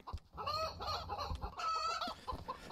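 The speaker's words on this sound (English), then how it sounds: "Come here, chicken." A chicken in the Chicken Killer horror video game clucks rapidly and loudly close by, a busy string of squawking calls with no talk over it.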